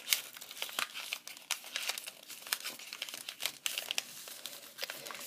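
Paper being folded into a crane crinkles and rustles in a run of short, close, soft crackles, quiet and steady with no talking.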